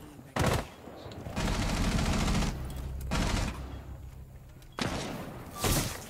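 Bursts of automatic gunfire crack out in Rainbow Six Siege, several separate loud volleys of rapid shots with dull thuds between them and quieter gaps in between.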